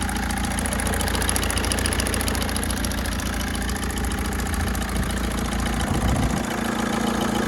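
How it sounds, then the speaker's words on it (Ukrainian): An Opel Zafira engine idles steadily at close range, a continuous low rumble with mechanical chatter and vibration that stays even throughout, with no talk over it. "робота двигуна."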